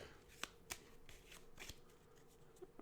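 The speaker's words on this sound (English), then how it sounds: "Shuffling up your deck." A deck of cards being shuffled during a solo tabletop game session, with soft, quiet riffling bursts and a few crisp snaps spread across a few seconds, close by and with no talking.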